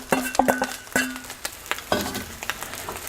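A spoon stirs and folds just over two cups of rice into scrambled egg in a frying pan, giving soft scraping and clinking taps with a light sizzle underneath, close by and irregular.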